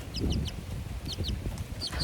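Young Frizzle chicks peep in quick high-pitched bursts, two or three chirps at a time, over a low rustling background.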